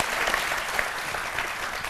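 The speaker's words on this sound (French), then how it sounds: "Veuillez vous applaudir à nouveau" A television studio audience applauds in a dense, even burst of many clapping hands, steady and continuous for about two seconds with no speech over it.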